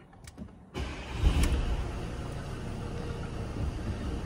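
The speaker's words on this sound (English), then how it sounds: "if we just start it up" A 2018 VW T6 Transporter with a 2-litre diesel engine cranks and fires after a brief quiet moment, then settles into a steady, close idle clatter.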